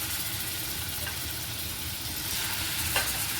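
Chicken pieces frying in melted butter in a pan for butter chicken give a steady, close, hissing sizzle, with a faint stir or scrape near the end.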